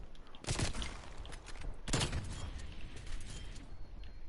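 Two sharp, loud sniper rifle shots in Call of Duty Black Ops Cold War, spaced about a second and a half apart, each with a short echoing tail over faint game ambience.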